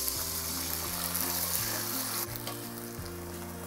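Water is poured into a pan of cooked, sizzling spice paste for sweet soy tempeh, the steady frying crackle shifting and softening partway through, close up with light music underneath.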